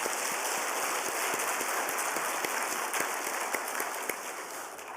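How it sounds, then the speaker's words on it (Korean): A church congregation applauding during a Wednesday worship service, a dense, steady wash of many hands clapping continuously at moderate distance, with no speech over it. "다시 한번 감사의 박수하겠습니다"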